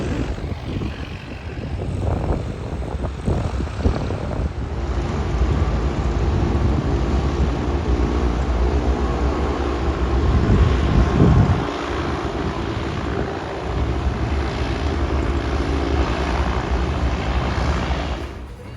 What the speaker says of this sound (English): We just got to Renton Airport, where they make the 737 MAX.